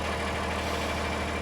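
A tractor engine idles in a steady, loud, low rumble with an even throbbing pulse throughout, close by and with no talking.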